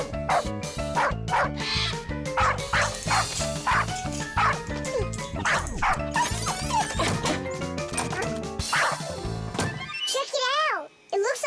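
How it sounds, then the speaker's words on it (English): Cartoon dog in a children's animated series barking with quick yips and bow-wows, repeated in bursts through a busy, loud soundtrack with music, then a few whimpering yelps near the end. "It looks like he knows how to speak dog."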